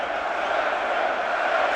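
Boxing arena crowd at the Saunders vs Lemieux fight in Canada, a loud, continuous roar of cheering spectators heavily backing Lemieux, sustained without a break.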